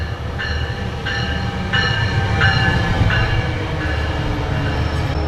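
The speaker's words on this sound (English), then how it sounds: "Welcome aboard, Metrolink Train 857, service to Oceanside." A Metrolink commuter train rolls along with a steady, loud rumble, while rhythmic clickety-clack beats from the wheels on rail joints repeat about every 0.7 seconds, heard from on board.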